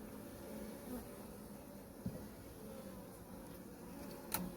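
Honeybees crawl on an outer hive frame with a sparse cluster of bees, giving a faint, even buzzing hum with a couple of small clicks and knocks.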